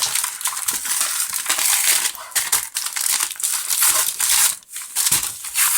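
Packaging of a holiday Bayern trading card box being torn open, loud crinkling and crushing of wrapping close to the microphone in a busy, irregular burst of handling noise.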